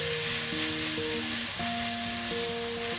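Cream sauce with fish, leek and tomatoes simmering and gently sizzling in a pan, a soft steady bubbling hiss, with sustained musical tones playing over it and no talking.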